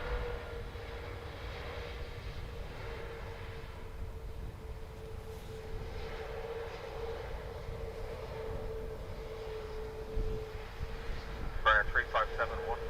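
An airliner rolls along a runway at Dublin Airport, giving a steady, fairly distant engine drone with a constant hum and no clear rise or peak, while voices talk over it.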